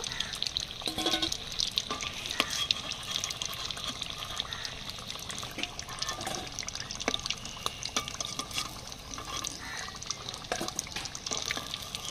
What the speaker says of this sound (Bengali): বাকি কাটলেটগুলো সব ভেজে নেব।